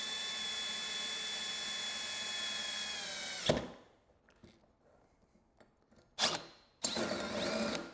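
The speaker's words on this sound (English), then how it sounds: "This is a 2 5/8 hole saw." A power drill with a 2 5/8-inch hole saw whines loudly and steadily, stops, then starts again in two short bursts after a quiet pause, cutting speaker pod holes in a Harley-Davidson CVO Tour Pak.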